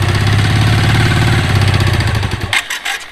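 A car engine runs close by with a steady rhythmic chugging idle for a few seconds, then falters and cuts off, leaving brief scattered knocks; no voices.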